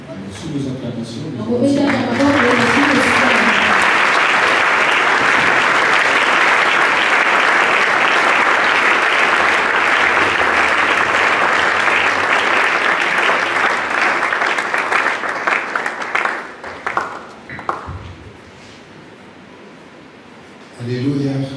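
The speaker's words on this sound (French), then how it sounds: "Sous vos acclamations" Loud, sustained applause from an audience at a memorial tribute ceremony, a dense wash of clapping that swells quickly, holds steady for many seconds, then thins out toward the end.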